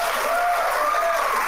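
An audience at a debate event applauding, a steady wash of clapping that is loud and continuous throughout, with a faint voice underneath.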